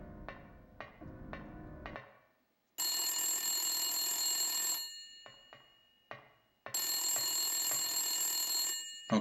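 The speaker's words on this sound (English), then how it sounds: "Okay, how's a toy phone ringing?" A toy phone rings in the Silent Hill video game, shrill electronic bursts in two long rings separated by a pause, after a few quieter clicks and tones at the start.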